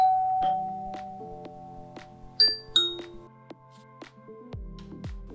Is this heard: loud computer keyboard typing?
no